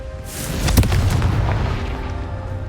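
A single booming explosion from the Confringo fire spell in Hogwarts Legacy, a loud blast with a crackling burst that rumbles on and slowly fades.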